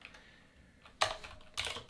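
Short bursts of quick key clicks on a computer keyboard, two brief clusters of close, crisp tapping in a quiet room.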